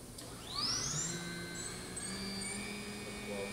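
An Okuma Genos CNC vertical machining center's Cat 40 Big Plus spindle runs up to speed, a quiet steady whine that rises in pitch early on and then holds as layered high tones over a low machine hum.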